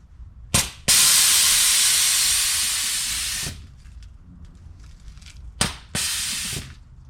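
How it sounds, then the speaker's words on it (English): Air ride suspension on an Acura Integra, worked in manual mode, hissing loudly from close by: a short puff, then a long hiss that slowly fades, and later a few quick bursts followed by another shorter hiss. "let's go ahead and enter manual mode for the air ride"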